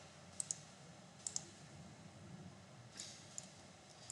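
Computer mouse button clicks during AutoCAD drafting, a few sharp, faint taps in pairs and singles over a quiet room hum, with no voices.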